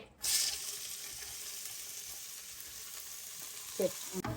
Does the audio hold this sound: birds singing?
no